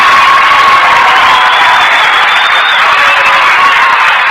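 A studio audience applauds guest star Danny Kaye at a radio broadcast, a dense, steady wash of clapping with some cheering, loud and unbroken for several seconds.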